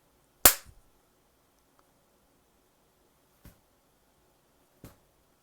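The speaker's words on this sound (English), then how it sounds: "clapping." Near an interferometer setup, one sharp, loud hand clap rings out in a quiet room, followed seconds later by two fainter, crisp claps.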